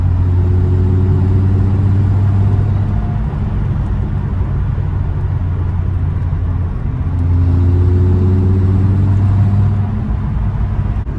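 Inside a VW Golf 2 fitted with a VR6 engine, a low droning engine hum stays steady and close, swelling slightly in two stretches as revs rise and fall.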